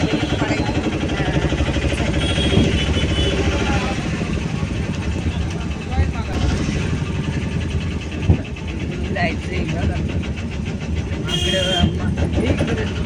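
A vehicle engine runs continuously as it arrives in Ayodhya, a steady rumbling drone with a few brief knocks, heard beneath people talking throughout.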